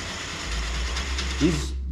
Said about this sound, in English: I'm going to use this long drill bit to drill out that rivet there